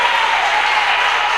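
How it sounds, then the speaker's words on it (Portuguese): A church congregation claps continuously in dense, even applause that fills the room, with no voices rising above it. "Então desocupe as tuas mãos e pode aplaudir essa palavra."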